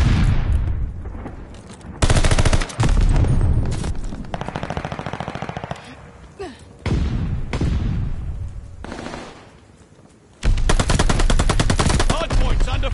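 Gunfire in the game Call of Duty during a college esports Hardpoint match: loud, close bursts of rapid automatic fire in several long strings, broken by quieter gaps with fainter distant shots, and no voices heard.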